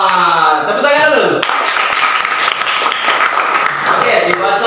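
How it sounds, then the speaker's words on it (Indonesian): Classroom group clapping after a student demonstration of an electrical panel circuit, loud sustained dense applause following a few seconds of a teacher speaking, with voices still audible over the clapping. "tepuk tangan dulu"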